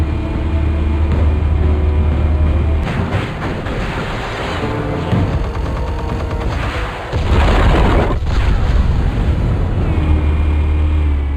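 Explosives detonating in Batman: The Telltale Series, heavy deep booms with rumbling blasts and debris, a loud swell that dips briefly and then surges again under dramatic game score.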